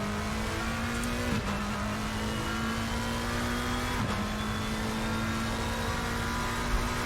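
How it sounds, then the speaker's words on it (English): McLaren GT3 race car in Assetto Corsa Competizione on a flying lap at Monza, heard from on board: a loud, steady high-revving engine drone that runs throughout and dips briefly at two upshifts, with no talking. "just started a flying lap here, so we're right on board with the McLaren"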